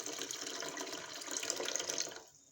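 Water poured into a pot of washed sago for sago pudding, a steady close splashing stream lasting about two seconds before cutting off.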